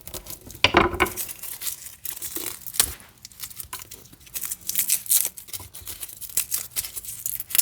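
Papery garlic skins crackle and tear as cloves are pulled one by one from a bulb. The crinkling and snapping come up close in uneven bursts, with short pauses between them.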